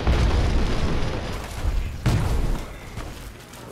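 Heavy booms and bursts of gunfire from a Fallout 3 battle against a robot army, loud and dense, with repeated explosive hits layered over a rumbling background.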